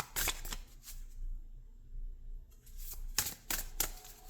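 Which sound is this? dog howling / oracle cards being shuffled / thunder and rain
oracle cards being shuffled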